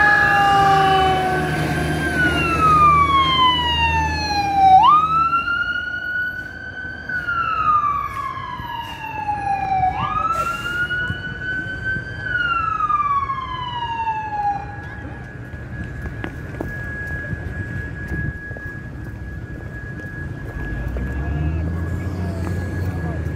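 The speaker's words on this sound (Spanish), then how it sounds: "Se trata del camión de bomberos." A fire truck siren wails in long rising and falling sweeps, loud and close, then settles into a steady tone over background street noise in Mexico at a burning vehicle explosion.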